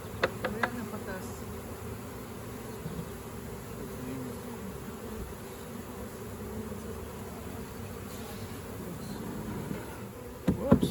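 Honey bees buzzing around a swarm trap hive as it is lifted and moved outdoors, a steady dense hum throughout with a few brief knocks near the start and end.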